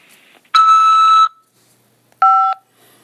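Two electronic tones sound clearly in silence on a prison collect-call phone system: a longer beep, a pause, then a shorter beep at a different pitch.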